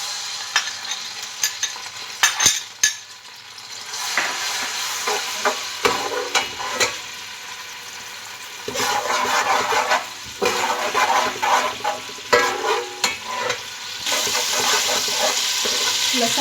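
Garlic and ginger frying in hot oil for beef yakhni pulao, left after browned onions were removed. Steady sizzling with bursts of stirring and scraping in the pan runs throughout at close range, without speech.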